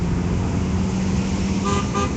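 Car horns honk at a street rally, a steady roadway din with engine noise and a couple of short horn toots near the end.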